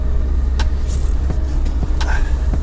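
A Lada Niva with locking differentials climbs a snowy hill after dark, its engine droning steadily and close, with a few faint clicks and knocks over the constant low rumble.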